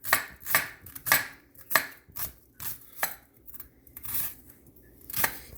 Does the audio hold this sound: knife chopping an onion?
yes